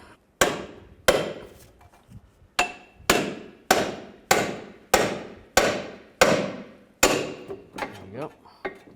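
A hammer strikes a pickle fork driven between a car's lower ball joint and steering knuckle on a 2003-2007 Cadillac CTS front suspension, about ten sharp metallic blows at a steady rhythm, close and loud, ending in a few lighter taps.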